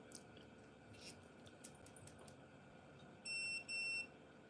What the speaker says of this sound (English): Beep, beep. It's like a microwave,